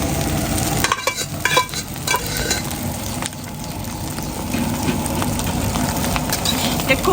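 Egg fried rice made with leftover boti curry and rice being stirred and mixed in a hot pan, a steady sizzle with clattering scrapes of the spoon throughout, close and fairly loud with no talking.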